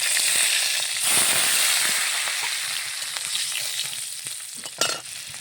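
Garlic cloves dropped into hot mustard oil for tomato chutney sizzle loudly and steadily up close, with a crackling hiss that fades slightly and a brief clatter near the end.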